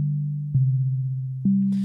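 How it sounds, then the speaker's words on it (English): A pure sine wave from the AudioTool Heisenberg phase modulation synth plays in legato mode, a smooth, clean tone that glides between three held pitches, with soft clicks at each change. "I'm starting out now with just a sine wave here"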